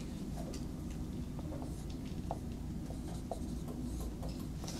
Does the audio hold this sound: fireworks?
no